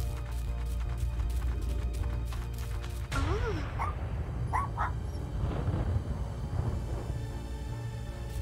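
Dog whimpering and yipping in the video game Little Misfortune, soft high cries and short yelps over steady game music, fairly faint and mixed beneath the score.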